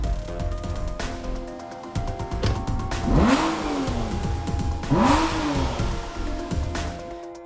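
A Bentley Continental GT V8 S engine blips and revs in two sharp rising-and-falling bursts over a steady idle rumble, loud and close.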